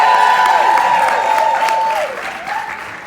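An audience applauds at a live music tour show in Orlando, dense close clapping with a sustained sung or whistled tone riding over it, thinning out after about two seconds.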